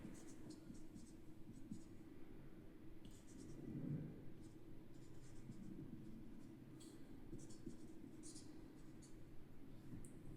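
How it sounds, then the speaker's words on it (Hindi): Handwriting during an OSI model lesson, faint scratchy pen strokes in short repeated bursts over a low steady hum, with quiet murmuring partway through. "लिख दूं यहाँ पे"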